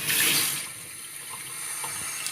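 Water pours into a cooking pot while paprika chicken with carrots and tomato soup is being made, a steady splashing gush that starts loud and settles into a quieter running flow, with no talking.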